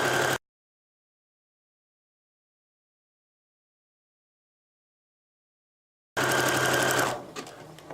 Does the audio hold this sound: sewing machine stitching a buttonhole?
yes